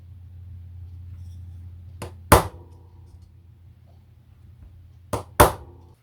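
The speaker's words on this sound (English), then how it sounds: "Got my dimpling hammer." Two pairs of sharp metallic hammer strikes from a dimpling hammer on metal plate ring out close by, a lighter tap followed by a harder blow each time, over a low steady hum.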